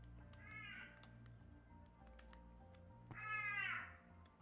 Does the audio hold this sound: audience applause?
no